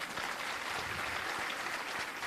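Audience applause at a political speech by Pankaja Munde, a dense, even roar of many hands clapping in a large gathering, sustained and fairly loud with no words over it.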